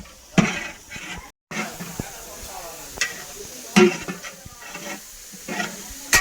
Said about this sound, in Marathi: इथे कांदा टाकून जरा परतवायला सुरुवात केलेली आहे